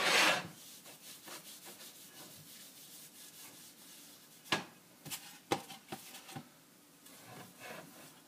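Rough scrubbing strokes rasp against a rusty cast iron pan as its seasoning and rust are worn away, a dense abrasive rub with a few louder sharp scrapes partway through, close and alone.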